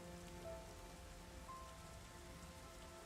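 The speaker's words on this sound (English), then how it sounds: "it's always raining" Rain falls steadily on surfaces in a video game, a dense continuous hiss of drops, quiet and even throughout, with no voices.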